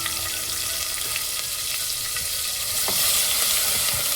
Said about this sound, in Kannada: ಒಂದು ಎರಡು ನಿಮಿಷ ಈ ಮಸಾಲನ ಫ್ರೈ ಮಾಡ್ಕೊಳ್ಳೋಣ